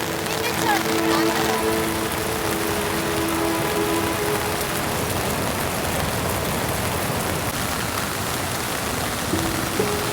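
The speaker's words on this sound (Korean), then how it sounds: "일기예보에 나오지 않은 비가 갑자기 내려서 돌아다니는 걸 멈추고" Rain falls steadily at a campsite, a dense, even hiss of drops on surfaces that runs throughout, with faint voices and tones in the first few seconds.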